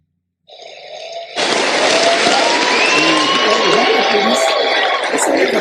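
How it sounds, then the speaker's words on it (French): After a brief quiet moment, an audience breaks into loud, sustained applause with cheering, dense clapping that stays steady to the end. "Mais ils applaudissent, ils pensent que c'est le spectacle"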